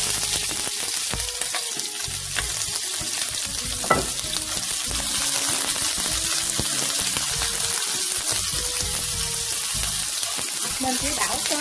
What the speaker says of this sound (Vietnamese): cái chảo dầu của mình giờ nó cũng đã nóng rồi nè các bạn. Thì bây giờ mình cho tỏi